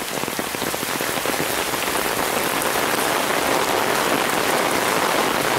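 A heavy, warm summer downpour in Kobuleti pounds steadily on surfaces, a dense, loud and unbroken roar of rain with no voices.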